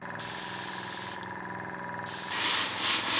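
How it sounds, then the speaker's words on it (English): Steady airbrush compressor hiss with paint spraying, broadband and continuous, briefly dipping in intensity before swelling louder again. "the sound of the compressor is pretty annoying"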